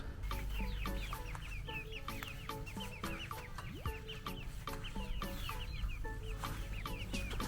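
Several feather-footed chickens cluck and chatter continuously nearby in a village garden in Germany, with overlapping calls and a low rumble of background noise.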